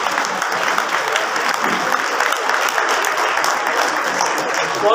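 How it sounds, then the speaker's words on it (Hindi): An indoor audience at an alumni gathering claps steadily in dense, sustained applause, loud and close throughout with no breaks. "ये ताली बजा देंगे मेरे मित्र की बातों को"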